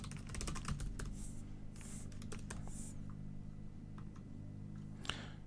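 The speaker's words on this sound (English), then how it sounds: "I'll type a subject in so I know what this is" Keys clatter in a quick, uneven burst on a computer keyboard as an email subject line is typed, with a few pauses and a final isolated tap, close and moderately loud over faint room hum.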